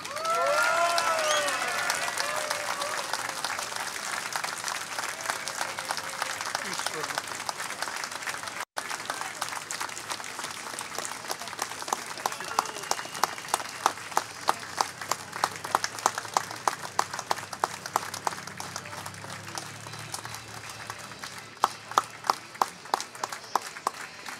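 An audience applauds an award recipient at a Budapest ceremony, sustained clapping that builds toward the end with sharper individual claps standing out, with a few voices underneath.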